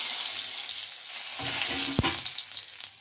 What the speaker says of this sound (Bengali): ডিম আলু ভাজা হয়ে গেছে, ফোড়নে দিয়ে দিলাম গোটা জিরে